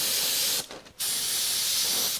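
An airbrush sprays paint through a texture template in a steady loud hiss, cutting out briefly for a moment before resuming continuously.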